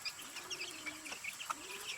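A hungry chicken makes soft, low clucks close by, with a few short calls over a faint steady background hum, quiet and unhurried.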